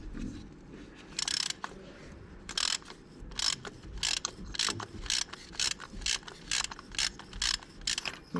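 A ratchet with an extension and 27mm deep socket loosens the oil pressure switch on a 2002-2008 Dodge Ram 1500, giving rapid bursts of close metallic clicking in repeated strokes over a low steady background.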